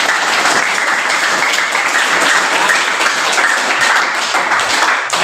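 A room full of children at a school claps steadily and loudly, a dense, sustained round of applause from start to finish.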